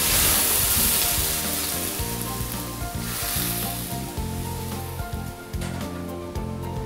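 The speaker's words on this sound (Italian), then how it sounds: "andremo a bagnarlo con un goccio di vino bianco secco. Sfumiamo col vino bianco." Dry white wine hitting a hot pan of scorpionfish with parsley stems, garlic and olive oil, giving a loud, continuous sizzle and hiss that slowly eases over several seconds, with no talking.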